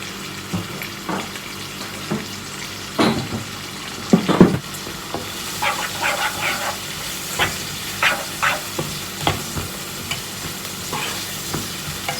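Onions frying in a pan on a home stove, a steady soft sizzle broken by scattered stirring scrapes and clatters, up close with no talking.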